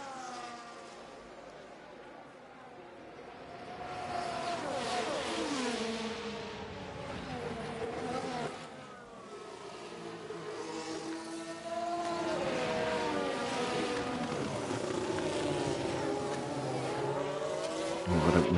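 Race car engines whine and shift pitch through a flying lap in the F1 Manager 23 racing game, with several cars' tones overlapping steadily at moderate level, alongside some speech.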